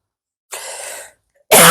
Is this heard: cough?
yes